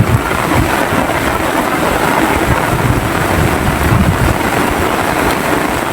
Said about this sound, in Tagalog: Lakas pala ng hangin dito.